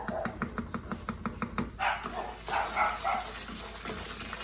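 Several dogs bark in a rapid run of sharp, repeated yaps in a home kitchen where mole michoacano is being cooked, with children playing out back; the barking gives way to a gushing, water-like rush and clatter.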